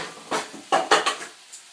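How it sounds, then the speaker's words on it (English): A metal pan set down on top of another pan as a makeshift lid over steaming kale and turkey, giving a few close, sharp clanks and rattles in quick succession, then quiet. "My favorite method for covering is just another pan on top"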